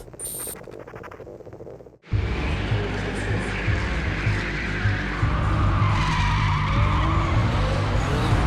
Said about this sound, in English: This here is intentional, drifting, sliding and having fun.